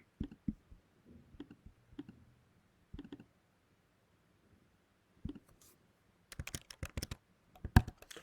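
Keys clatter on a computer keyboard during bookkeeping data entry, in short irregular bursts of clicks separated by pauses, growing into a denser, louder flurry toward the end.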